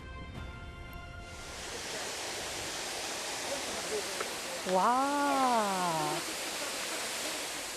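Natural hot spring water pouring down as a waterfall in a green oasis in the desert, a broad steady roar throughout, with a voice exclaiming in amazement partway through.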